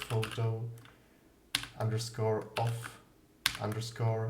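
Keys tapping on a computer keyboard in short quick runs, up close and fairly quiet, with pauses between the bursts of typing.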